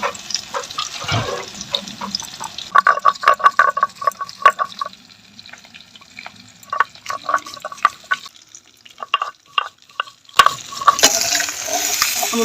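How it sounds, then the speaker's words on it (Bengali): Rui fish frying in oil in a pan, with a crackling sizzle broken up by sharp spatula clinks and scrapes, and a louder, fuller sizzle near the end. "আমার মাছগুলো ভাজা গেছে"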